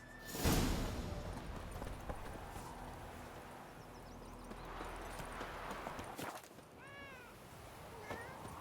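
Geralt's horse Roach galloping in The Witcher 3: steady clip-clop hoofbeats run throughout, strongest early on, with a swish and a few brief cat-like cries near the end.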